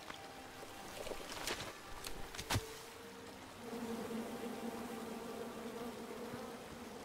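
Buzzing bees in the King's Quest video game, a low steady drone that swells in the second half of the clip after a few sharp clicks, with no talking.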